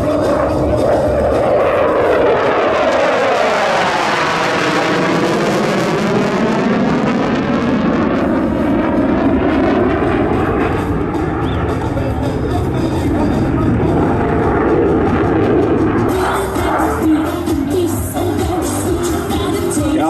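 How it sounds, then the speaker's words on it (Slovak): A loud fly-by-wire jet airplane roars overhead at the Slovak International Air Fest in Malacky, its pitch sweeping down as it passes, with crowd noise and an announcer's voice mixed in. "Lietadlo ovládané fly-by-wire systémom."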